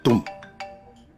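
A mobile phone ringtone sounds close by in a short melodic burst, a loud first note followed by a few lighter chimes that fade out.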